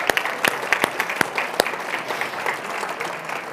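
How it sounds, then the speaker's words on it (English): Audience applause at the third annual All in Education MAPA Summit, a dense crowd clapping steadily with a few sharp louder claps standing out near the start, then settling into even, sustained applause. "A big round of applause for All in Education and their team."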